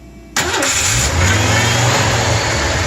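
A 1986 Ford F-150 pickup engine, fitted with an upgraded power steering pump, cranks and catches, roaring loudly up close, then settles into a rough, steady rumble.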